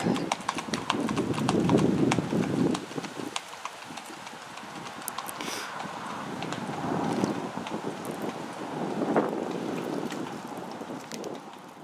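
A smooth-gaited riding horse clip-clops along a road under a rider, the hoofbeats steady and fairly close, with wind noise rumbling over the microphone and no talking.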